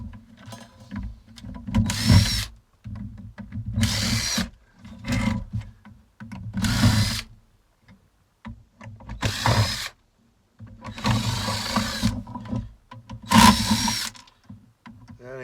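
A power drill whirs in short repeated bursts while backing out screws, each run a few seconds long with quiet gaps between, close and fairly loud.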